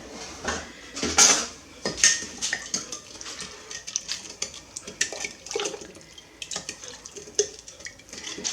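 A metal spoon clinks and scrapes against a pot in quick, uneven strokes, stirring sugar into boiling water for kombucha, with watery swishing in between, close and fairly loud.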